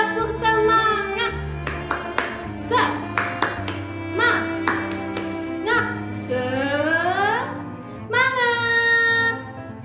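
Children at a Sunday school doing the rhythmic tepuk semangat clap, with bursts of quick claps mixed into loud group chanting and an adult voice leading.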